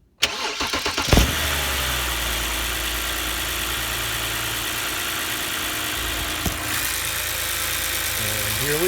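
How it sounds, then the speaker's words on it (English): A BMW engine cranks and catches, then settles into a steady, loud idle that hums on evenly at close range for several seconds. "So let's start the engine and see what happens."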